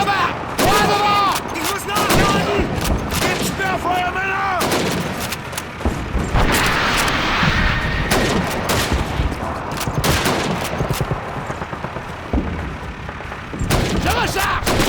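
Call of Duty 2 combat, a World War II shooter with French voices: dense, loud gunfire and artillery booms in rapid bursts, soldiers shouting over the continuous battle din.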